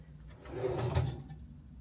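A hotel room drawer in the Bronx slides open or shut with a soft wooden rub and a muffled thump in the middle, faint and close, with no talk.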